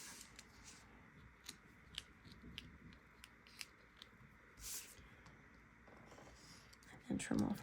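Scissors snip and trim paper pieces for a handmade mini album, giving a series of faint, crisp cuts spaced out in a quiet room with a slightly louder rustle of handling near the end.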